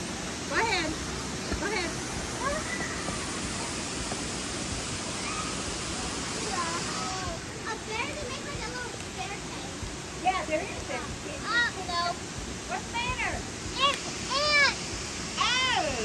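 Creek water rushes and splashes over rocks in a steady broadband wash, with children and adults chattering and calling out over it throughout.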